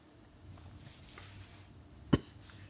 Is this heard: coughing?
yes